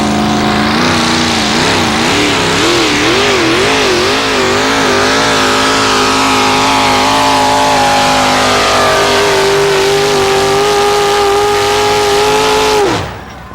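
A pulling tractor in a tractor pulling competition roars at full throttle, its loud engine wavering in pitch as it strains down the track, then settling into a long steady howl before cutting off abruptly near the end.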